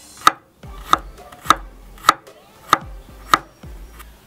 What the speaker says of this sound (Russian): И беру еще 4 зубчика чеснока. И нарезаем просто произвольно.